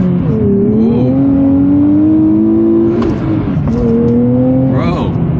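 A 2023 Nissan Z turbo accelerating at full throttle through first and second gear, engine note rising steadily and loud from inside the cabin, briefly dipping at a gear change before climbing again.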